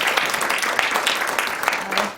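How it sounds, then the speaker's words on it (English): Audience applause at the close of a meditation lecture, a dense, steady wash of many hands clapping that holds evenly throughout without a break. "Round of applause."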